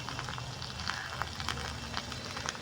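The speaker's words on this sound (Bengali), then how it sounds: "আমি এখানে বসিয়ে দিচ্ছি বিনস আর গাজর ভাজা" Beans and carrots fry steadily in a pan, a dense, even sizzle with a few brighter crackles popping through, continuous and close throughout.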